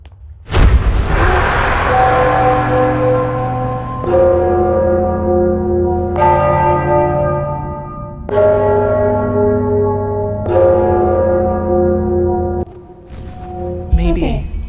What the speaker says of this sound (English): I'm sure the bell has something to do with the riddle.